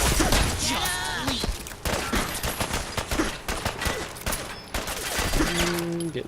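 Rapid bursts of gunfire strike the player in the video game Fallout 4, loud, close, irregular volleys with thuds and impacts throughout, and a brief tonal game sound near the end.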